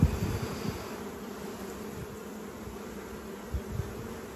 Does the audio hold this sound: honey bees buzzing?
yes